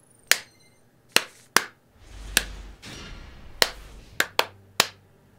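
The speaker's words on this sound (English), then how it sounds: "Did you hear the clap when you saw the clap?" Sharp single hand claps spaced unevenly, about eight crisp close strikes in a quiet room, made as an audio sync test, with brief low rumbling handling noise between some of them.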